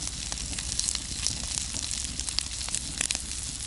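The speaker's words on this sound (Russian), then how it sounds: "Сосиски тоже жарятся." Sausages frying over a campfire in an autumn forest, with a soft continuous sizzle and scattered small pops and crackles from the fire, fairly quiet and steady, with no voices.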